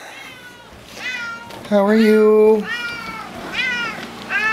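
A cat meows repeatedly in rising, drawn-out calls, close and fairly loud, while a person speaks softly to it between and over the meows.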